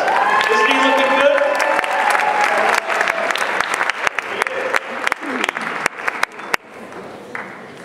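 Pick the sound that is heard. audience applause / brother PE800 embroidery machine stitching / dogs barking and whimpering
audience applause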